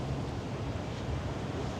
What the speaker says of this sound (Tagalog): Malakas yung alon sa dagat oh.